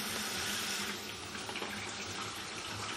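Water from a pull-out kitchen tap runs steadily into the reservoir of a Sunbeam EM7000 coffee machine, a continuous close hiss and splash filling about three litres, with no talk over it.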